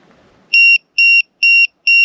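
A LiPo battery low-voltage alarm on a 1/10 RC car sounds four sharp, evenly spaced electronic beeps, loud and close, after a brief faint rustle.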